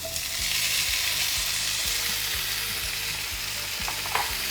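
Half a kilo of chopped tomatoes frying in a little hot oil, producing a loud, steady sizzle close by with faint rhythmic stirring taps underneath and no talking.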